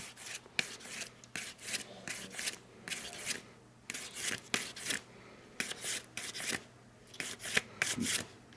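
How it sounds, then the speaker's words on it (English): A ring is sanded with a sanding block wrapped in emery paper, giving quiet, close rasping strokes in short uneven bursts with brief pauses between them. "let me sand that just real quick here. Just a little sanding block with some emery paper on it."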